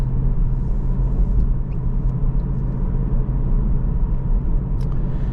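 A Honda Civic Type R FL5 on the road, heard as a continuous, loud low rumble of engine and road noise. The tone stays steady throughout, as from inside the moving car.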